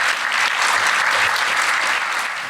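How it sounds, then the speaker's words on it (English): Loud, dense applause from a crowd at a gala dinner, continuous clapping throughout with no pauses. "can we just give a round of applause"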